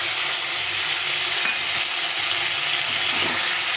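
A paste of green chilli, dried red chilli, ginger and cumin sautés in a pan with fried potato and taro, giving a steady, close, continuous sizzle with occasional soft stirring scrapes and no voices.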